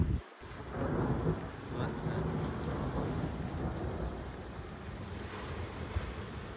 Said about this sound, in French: On rentre dans la petite pluie.